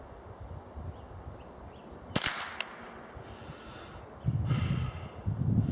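A single sharp crack from a Ruger or AGP Arms 10-22 take-down rifle rings out at the range, one quick report followed by a short echo, amid quiet background rustle and handling noise.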